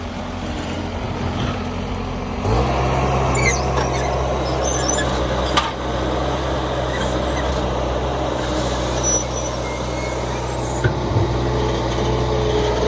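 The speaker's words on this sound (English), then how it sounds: "Looks like here we have automated cleanup, so no lifting heavy cans." A New York City sanitation garbage truck in Brighton Beach idles with a loud steady diesel rumble, then its mechanism whirs and lifts as it empties trash cans, with scattered clanks and hisses over the drone.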